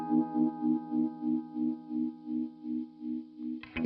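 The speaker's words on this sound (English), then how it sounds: "Vibrato is a much more subtle effect and is a great way to add some movement to your sound." Guitar chord through a Behringer 69 vibe effect pedal, held and pulsing in a steady, even wobble about three times per second, fairly quiet, ending with a brief noisy burst.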